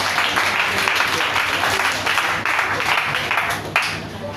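A church congregation applauds in a sustained, dense round of clapping that keeps going without a break, with a few voices mixed into it.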